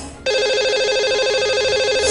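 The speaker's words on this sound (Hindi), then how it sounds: "तो चलिए इन्हें अब हम लगाएंगे कॉल और करेंगे इनसे बात।" A phone line rings out as a TV call-in show dials a caller, a steady electronic ringtone that starts abruptly and continues loud and alone.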